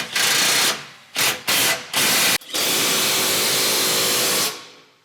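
A power tool with a 16 mm socket drives a bolt on heavy-duty side steps being fitted to a RAM 1500 DS pickup, loud whirring bursts in short pulses followed by one long sustained run that tapers off.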